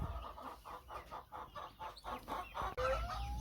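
Chickens and chicks cluck in a steady, repeated rhythm at a poultry coop during plague vaccination, close and clear, with a brief louder squawk near the end.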